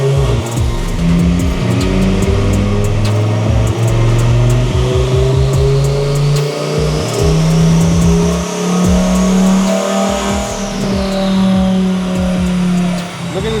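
A twin-turbo Audi R8 Spyder roars loud and close under load on a dyno, its engine note climbing steadily through a long sustained pull with turbo whine rising on top, then dropping off sharply near the end.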